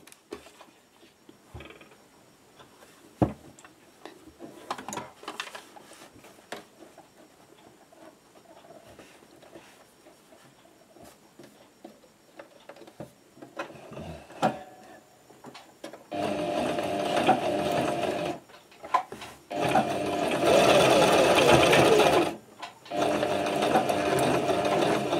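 A sewing machine topstitches with a straight stitch beside a zipper, running in loud steady bursts through the second half after a stretch of quiet handling and clicks.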